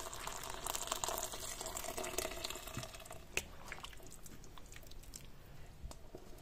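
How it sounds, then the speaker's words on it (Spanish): Water poured into a cast iron pot of browning beef for a stewed macaroni dish, a steady close splashing and trickling with a brief louder slosh partway through, no talk. "Vamos a añadir también el agua."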